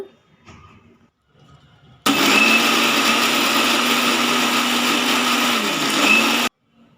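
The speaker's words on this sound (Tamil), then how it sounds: "ரெண்டு வெங்காயம் நாலு தக்காளி அரிஞ்சு மிக்சியில் அரைச்சி எடுத்துக்கலாம்" A kitchen mixer grinder whirs loudly for about four seconds as it grinds chopped onions and tomatoes, with a steady high motor drone that starts and stops abruptly. Quiet handling noises come before it.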